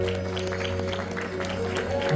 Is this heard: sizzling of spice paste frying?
no